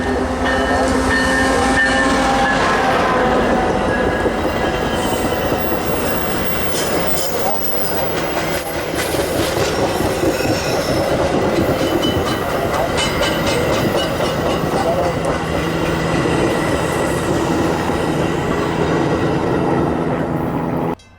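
A Milwaukee West Main Line passenger train to Winchester passes close and loud on the CPKC Elgin Sub in Schaumburg in January, with steady rumble, wheel clatter and some squeal.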